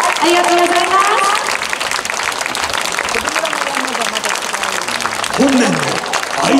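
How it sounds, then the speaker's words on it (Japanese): Applause from a street crowd at the Aizu festival feudal lord procession in Aizuwakamatsu, sustained clapping heard under an announcer's amplified voice throughout. "と大きな拍手で応募ください。"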